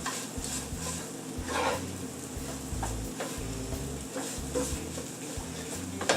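A spoon steadily stirs milk, flour and black pepper into sausage gravy in a pan, giving rhythmic scraping and knocking strokes over a soft sizzle, close and clear with no talk.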